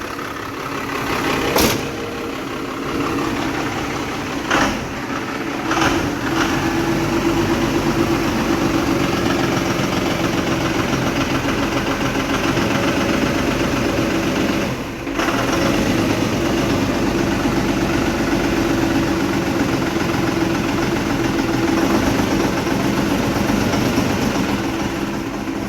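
A 12 valve Cummins diesel engine running at a steady idle with a clattery, heavy rumble and a few sharp knocks early on. The engine is close and loud, with no talk over it.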